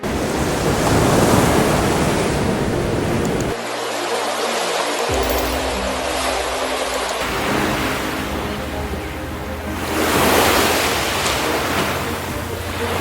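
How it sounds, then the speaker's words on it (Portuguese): Ocean waves crash and surge against ice along the Alaskan coast, a broad continuous roar with a swelling surge near the end, mixed with wind noise and a brief low rumble partway through. "Sons graves se misturam ao impacto das ondas"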